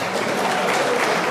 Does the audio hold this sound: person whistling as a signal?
no